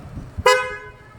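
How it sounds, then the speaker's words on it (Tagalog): A single loud car horn blast, sustained and slowly fading, cutting through quiet background noise. "Busina! Ha? Busina!"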